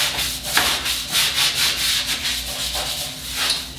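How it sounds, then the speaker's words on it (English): A chrome faucet is scrubbed with Bar Keepers Friend, producing brisk rhythmic rubbing strokes up close, loud and steady, with no voices. "now I'll just give it a good scrub"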